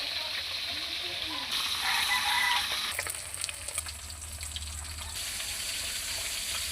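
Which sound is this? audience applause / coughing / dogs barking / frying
frying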